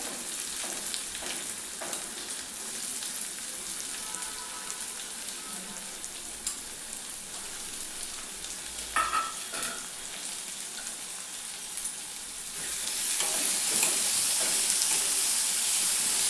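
Finely chopped onion with a little salt sautés in a pan, a steady close sizzle and hiss running throughout with occasional scrapes of a spatula, growing louder toward the end, and no talk.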